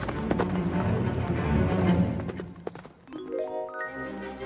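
Hooves clatter in a quick, rolling gallop, loud and close, with a thump and rising whinny-like tones near the end.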